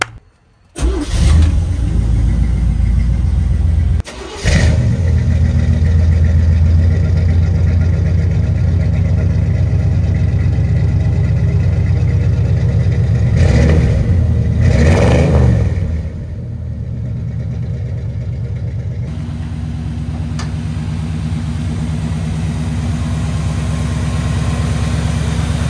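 A 1972 GMC K20 4x4 truck cranks briefly, then its engine catches and runs loud and close, with a few sharp revs before settling into a steadier, lower idle.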